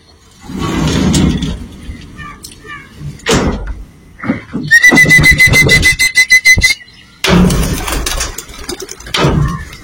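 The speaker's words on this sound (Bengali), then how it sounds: "এই 5টা বাজে, আমি পায়রা ছেড়ে দিচ্ছি।" Pigeons are released for a flying competition: wing flaps and a rattling flurry of takeoff mix with knocks and whistling sounds, coming in bursts alongside background noise.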